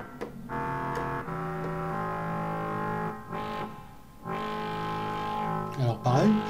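Behringer Model D analog synthesizer, a Minimoog clone, playing a sustained chord with reverb added, rich harmonic tones swelling and holding, then a filter sweep near the end.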